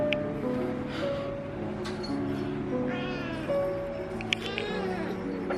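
A white pet cat meows several times in drawn-out, rising and falling cries, close and fairly loud over a low background hum, with some faint noise between calls.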